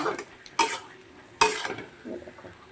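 Taro greens with peanuts, garlic, cumin powder, salt and turmeric frying in a pan, with two sharp bursts of stirring and scraping over a low, steady sizzle, close and moderately loud.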